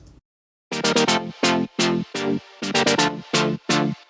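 Bright, buzzy synth saw chords stab in quick repeated sixteenth-note bursts, grouped in short rhythmic runs with gaps between, loud and dry, in an electronic dance drop.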